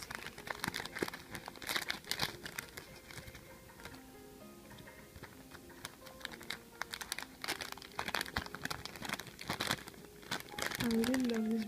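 A K-pop letters package being opened, with plastic and paper wrapping crinkling and crackling in bursts of close, fairly quiet rustles and tearing, with someone talking over parts of it.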